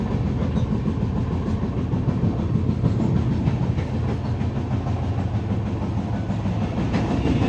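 A passenger train bound for Haridwar rolls along at a steady pace, its continuous loud rumble and faint wheel clatter heard from inside the carriage without letup.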